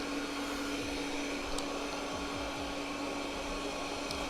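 A Proscenic M9 robot vacuum mopping a floor puts out a faint, steady motor whine and hum. Soft low sweeps repeat as it moves, with no voices.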